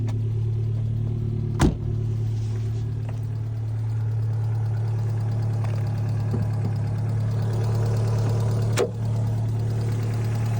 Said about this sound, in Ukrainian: помилок немає, двигун робить рівненько.